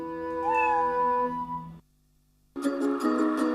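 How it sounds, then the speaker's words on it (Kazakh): A small kitten meows loudly and drawn-out in a dubbed film scene, one long wavering cry, a brief silence, then another strong, close call. "Мяу, естідің бе?"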